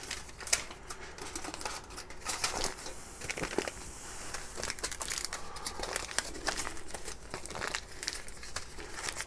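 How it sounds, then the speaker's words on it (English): Copper sheet crumpled by hand, a steady crinkling and crunching that runs on without pause, close and moderately loud, with no voices. "Then at the end, I crumple it in a little different than normal"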